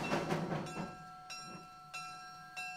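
Heritage passenger train made up of vintage coaches from the 1910–1950 era rolling along the rails, with rhythmic rumbling and periodic wheel clacks over rail joints, steady and moderately near.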